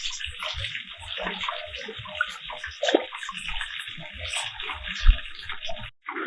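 Water flows at a cave spring along a hillside pilgrimage path, a steady splashing rush with gurgles and scattered knocks and footsteps nearby.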